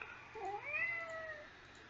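A house cat meows in one long, drawn-out, rising and falling call at close range, with a quiet room hum beneath it.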